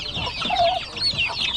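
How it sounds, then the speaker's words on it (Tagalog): Chickens and chicks clucking in a mixed farmyard flock that includes a turkey, several birds calling close and steadily over one another with no talk. "May pabo at saka sisiw ng manok."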